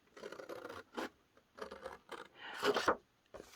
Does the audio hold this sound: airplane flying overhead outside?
no